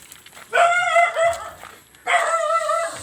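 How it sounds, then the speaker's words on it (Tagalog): A nearby dog lets out two long, drawn-out barks that sound almost like howls, separated by a short pause, loud and with no voices over them. "nagagalit siya nagagalit yung aso sa atin guys"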